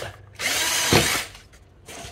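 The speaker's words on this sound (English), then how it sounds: "make a couple of holes in a spare board." A power drill bores holes into a spare laminate floor board, one loud sustained whine lasting about a second with a brief rise in pitch as it bites, then cutting off.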